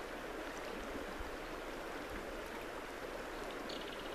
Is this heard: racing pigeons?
no